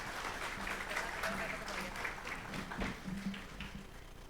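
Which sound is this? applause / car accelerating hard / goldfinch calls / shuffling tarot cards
applause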